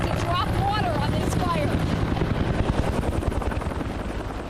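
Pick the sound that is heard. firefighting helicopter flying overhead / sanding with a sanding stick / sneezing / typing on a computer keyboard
firefighting helicopter flying overhead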